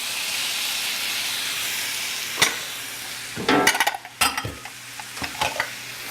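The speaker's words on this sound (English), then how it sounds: "We're going to give this a saute and let it start to whiten up or clear up the onions and soften up the apples." Onion, apples, cranberries and rosemary sautéing in a pan, with a steady soft sizzle and hiss, then a cluster of sharp scraping stirs and clinks from the utensil over the second half.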